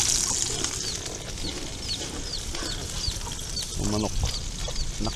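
Chickens and their chicks cluck and peep softly nearby at an outdoor campsite in Tagaytay, scattered calls over a steady background hum, with a brief voice near the end.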